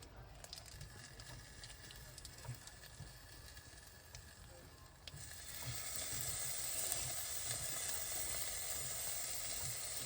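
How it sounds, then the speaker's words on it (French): Minced beef frying in a hot pan while making bolognese sauce: a steady close sizzle and hiss that jumps louder about halfway through and then holds, with faint kitchen clatter. "Maintenant, on va faire cuire la viande hachée."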